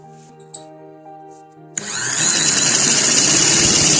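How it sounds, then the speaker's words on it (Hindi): A sewing machine stitches the neckline of a kurta, starting after a quiet pause with a few faint clicks and then running as a loud, continuous mechanical whir to the end. "अब हम सिलाई लगाते हैं इस साइड पे भी"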